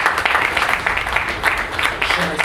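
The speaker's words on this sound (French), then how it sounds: "Encore donner l'applaudissement pour nous." An audience at an awards ceremony in Morocco claps in a dense, continuous burst of applause that stays loud and even across the whole moment, with some voices mixed in.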